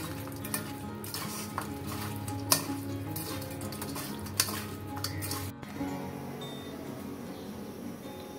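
Rohu fish pieces are worked by hand with chili powder and ginger-cumin paste in a metal bowl, giving soft, close squelching and scraping with occasional sharp clinks, and no talking.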